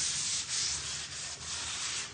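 Close sanding on wood: a steady abrasive rasp with rhythmic back-and-forth strokes, continuing throughout without any voices.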